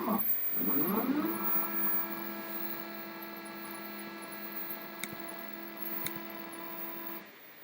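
A desktop CNC machine running GRBL homes after a configuration change, its stepper motors giving a steady tonal whine with a few faint clicks, fading out near the end; no one speaks.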